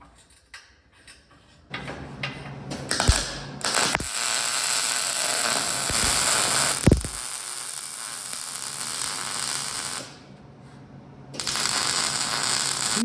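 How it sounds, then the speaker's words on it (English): A tap wrench cuts threads into holes in steel steering mounts, giving a steady grinding and scraping with ratcheting clicks and a few sharp metallic knocks. It runs close and loud, pauses briefly, then resumes. "next I'm going to run my tap through all of these holes"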